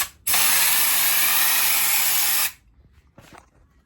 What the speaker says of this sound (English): let's now enjoy ourselves as we spray this down